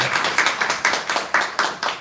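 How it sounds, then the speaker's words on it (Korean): A church congregation claps in unison for the choir at a Sunday worship service, about eight sharp rhythmic claps in steady tempo, close and distinct. "우리 찬양대 정리하는 마음으로 박수 한번 하겠습니다"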